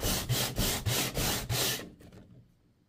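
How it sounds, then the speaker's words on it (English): Rhythmic scraping strokes of a model building part sanded on sandpaper, about six quick back-and-forth passes, close and fairly loud, then stopping into quiet. "just put it on the sanding paper and sand that off"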